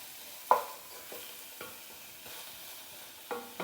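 A utensil stirs spinach frying in a pan, giving a few sharp scrapes and knocks over a faint, continuous sizzle, close and quiet with no voices.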